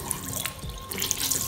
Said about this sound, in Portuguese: Daí eu venho com a água